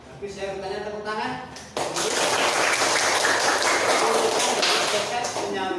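Students in a classroom break into applause during a lesson on electric power distribution. The clapping begins abruptly right after a teacher's voice and continues as loud, dense, steady clapping.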